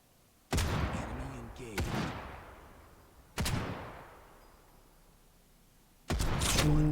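Sniper rifle shots ring out in the video game Final Fantasy VII The First Soldier, four sharp loud cracks spaced seconds apart, each trailing off into a fading echo, with no speech.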